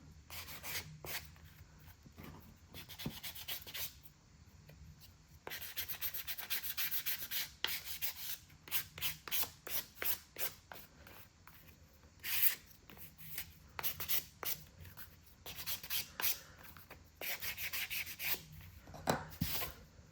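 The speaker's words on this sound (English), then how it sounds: "you can lightly sand the edges afterwards with sandpaper or even with a nail file" A nail file lightly rubs the edges of a stack of notebook pages, soft close scratchy strokes in quick rhythmic bursts separated by short pauses.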